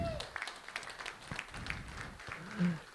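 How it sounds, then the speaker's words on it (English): Audience applause at a talk on Michigan's conservation movement: scattered, fairly light clapping from the crowd that builds slightly toward the end, with some background murmur. "How about a round of applause for Aaron?"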